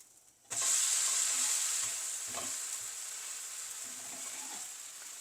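Sri Lankan dosa batter hits a griddle with generous sesame oil, bursting into a loud hiss that settles into a steady, close sizzle with faint crackles throughout.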